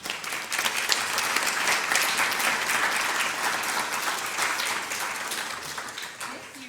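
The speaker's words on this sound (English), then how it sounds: "Give yourselves a big round of applause." An audience at an annual Black History essay contest gives a full round of applause, many hands clapping densely and steadily, loud at first and gradually tapering off, with some voices mixed faintly into the crowd.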